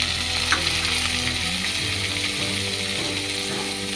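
Chopped onion, garlic and tomato frying in a pan, a loud steady sizzle with scraping, clicking stirring strokes over it, close up and without speech.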